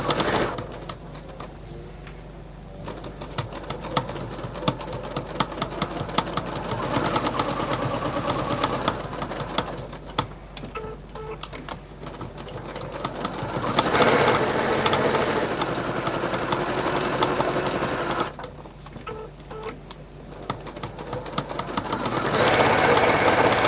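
A sewing machine stitches a fabric clip tray in a steady whirring run that swells and eases, close and fairly loud, with only brief softer pauses.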